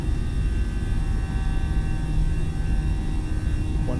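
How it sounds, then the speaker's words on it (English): Simulated Airbus A320 jet engines roar during a takeoff roll in Microsoft Flight Simulator, a loud, steady, continuous engine drone with a sustained high whine, heard alone without speech. "Oh man, we even slow on the takeoff to get going."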